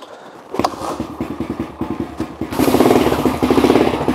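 A TCB 125 motorcycle engine fires up and idles with a rapid, uneven thumping putter, close by, then revs up louder and rougher toward the end.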